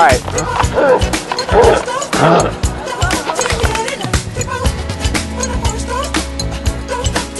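Dog barking loudly and close by during a fishing outing, several sharp yips and bow-wows in the first half mixed with splashing water and people talking.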